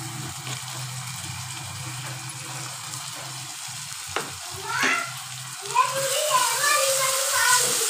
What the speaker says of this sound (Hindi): इसको भी अच्छे से हम प्याज के साथ भून लेंगे